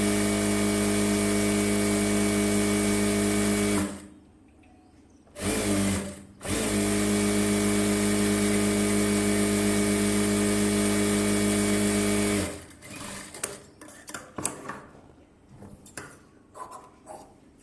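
A sewing machine stitching the hem of a blouse runs in a loud, steady whirr, stops briefly, runs again at length, then gives way to clicks and fabric handling.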